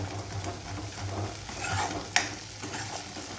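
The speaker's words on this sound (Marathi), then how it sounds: "आपल्याला तेल सुटेपर्यंत हे जो मसाला आहे तो फ्राय करून घ्यायचा आहे" Dhaba-style mixed vegetable masala frying in oil while it is stirred in a pan, a close steady sizzle with soft scraping strokes and one sharp clink of the spoon against the pan.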